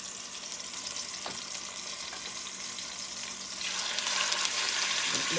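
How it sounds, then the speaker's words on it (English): Short ribs browning in a hot pan give a steady, close sizzle and crackle that swells louder toward the end, with no talking over it. "short ribs get brown on each side"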